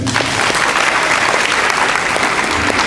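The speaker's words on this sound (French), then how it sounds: "j'aimerais que vous applaudissiez pour vous-même." Sustained, loud applause from an audience filling a hall at a university competition semifinal, steady dense clapping throughout with no speech over it.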